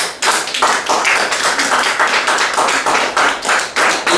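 A church congregation claps in a fast, even rhythm, loud and close, with sharp beats repeating through the whole stretch and no talk over them.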